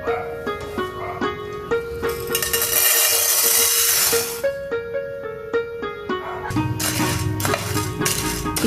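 Chana dal dry-roasting in a pan for mango pickle, stirred constantly with a metal spoon that scrapes and clinks against the pan in a steady rhythm, with faint crackling and a low background hum.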